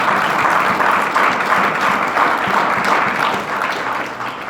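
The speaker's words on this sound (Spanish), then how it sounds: "Dale un fuerte aplauso a Jesús en esta noche" A congregation claps loudly and steadily at an evening church worship service, a dense, sustained wash of many hands that holds for several seconds before easing slightly at the end.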